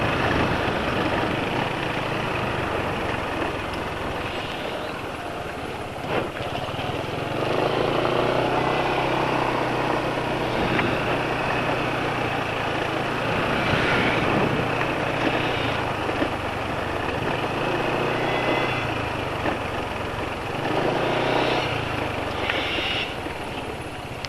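A small automatic scooter engine runs steadily at idle with fresh Delvac oil, a continuous mid-level drone heard close by and alone, with slight swells in intensity but no clear revving.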